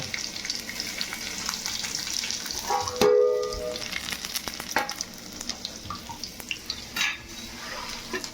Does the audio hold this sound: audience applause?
no